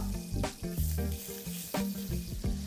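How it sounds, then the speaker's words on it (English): Sliced onions sweating with salt in a hot pan, a soft sizzle broken by brief scraping stirs in an irregular rhythm, close and fairly quiet. "So I'm going to add a little salt so the onions sweat and they cook faster."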